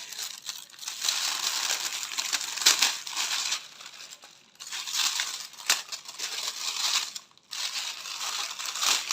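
Plastic wrapping crinkled and handled close up, loud bursts of crackling rustle in several bouts separated by brief pauses, with no talking.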